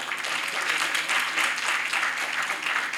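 Audience applause for an award winner at the ASCOM 2024 ceremony: dense, steady clapping from a sizeable crowd, sustained and fairly loud across the whole stretch with no break.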